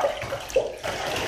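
Water running and splashing while a pet is rinsed during a bath, a close steady faucet-like pour with small splashes and no talk.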